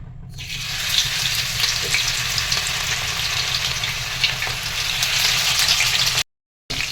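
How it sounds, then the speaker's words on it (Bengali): Aloo and paneer snack sticks frying in hot oil, a continuous close, bright sizzle with crackling bubbles that holds steady for several seconds before a brief drop-out, no talking. "এবার গরম তেলে এই এক একটা কাঠিগুলো আমি ছেড়ে দেবো"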